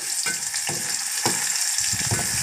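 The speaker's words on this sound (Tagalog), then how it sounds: "gigisa na natin" Pork sautéed with tomato, onion and vegetables in a pan, a steady hiss of sizzling broken by several stirring scrapes, close and continuous with no voices.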